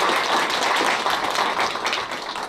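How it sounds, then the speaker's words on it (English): A class audience gives a quick round of applause before a talk on the social media echo chamber, a short, dense burst of many hands clapping at close range with no speech over it. "just maybe one more quick round of applause for them."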